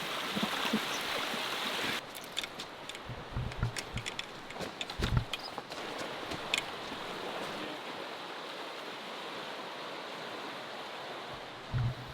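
A fast-flowing river swollen by rain and snowmelt rushes in a steady, fairly faint wash of water noise, with a few scattered low knocks and thumps.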